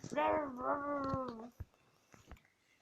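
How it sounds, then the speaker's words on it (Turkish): Cats meowing in the Roblox Brookhaven video game: a long, tonal, drawn-out meow up front followed by softer clicks and faint noises, with no talk over it. "kediciklere bak lütfen bak kedicikler var"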